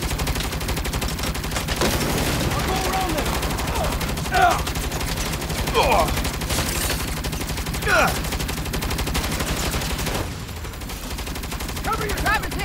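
Continuous, dense gunfire from the video game Saints Row, with rapid overlapping shots forming a near-unbroken fusillade and a few louder single reports, while faint voices can be heard beneath.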